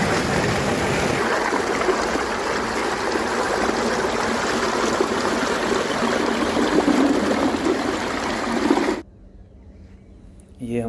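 Irrigation water rushes steadily into a wheat field for the first watering, a continuous close splashing flow that cuts off abruptly near the end.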